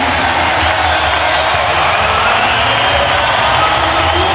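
Arena crowd at a 2005 NBA game, Washington Wizards at Minnesota Timberwolves, roaring and cheering on its feet: a loud, continuous wall of crowd noise that fills the entire stretch without a break.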